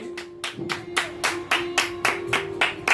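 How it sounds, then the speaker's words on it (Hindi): Audience at a ghazal evening claps in a quick, steady burst of sharp individual hand claps, close and fairly loud, with no talking over it. "जोरदार तालियां इनके लिए।"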